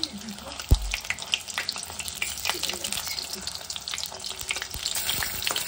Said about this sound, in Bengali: তেল ছিটছে। একটু আঁচটা কমিয়ে দিয়েছি।